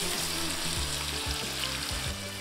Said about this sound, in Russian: выкладываем жариться нарезанные помидоры